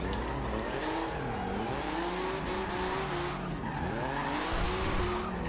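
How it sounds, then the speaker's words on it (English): A 1982 Porsche 911 Turbo 3.3 drift build slides through corners in Forza Horizon 2, its engine revving and wavering while tires squeal continuously, loud and close throughout. "This car is a blast to drive and drift."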